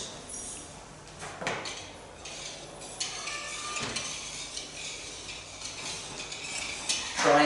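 A spoon or spatula slowly folds meringue sponge cake batter in a bowl, giving a steady soft scraping and stirring with faint clinks against the bowl, close and continuous with no voices.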